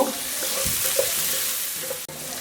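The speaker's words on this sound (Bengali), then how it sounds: "এখন একই সসপ্যানে আমি 2 চা চামচ সরিষার তেল দিয়েছি, তার মধ্যে আমি মাঝারি সাইজের একটা পেঁয়াজ" Onion frying in mustard oil in a saucepan over high heat, a dense close sizzle with light stirring knocks and a sharp clack near the end.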